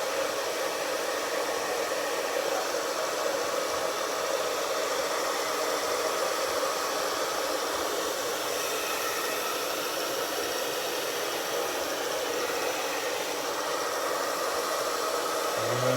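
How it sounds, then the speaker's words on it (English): A hair dryer blows steadily over poured paint on a canvas, a continuous even whoosh at moderate level lasting throughout with no pauses or talking. "if you blow dry it, and you get rid of a lot of the chunks doing it that way"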